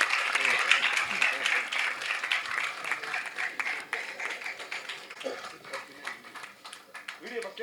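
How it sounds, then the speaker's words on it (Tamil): Loud applause from an audience at a movie trailer launch event, dense steady clapping throughout, gradually thinning toward the end. "பலத்த கரகோஷங்களுடன்"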